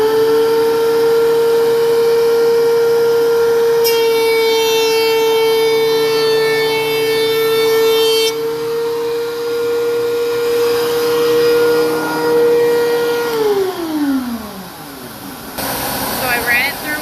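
A wood thickness planer runs a board through: a loud, steady motor whine with a harsher cutting roar partway in, then the pitch sinks as the machine spins down near the end.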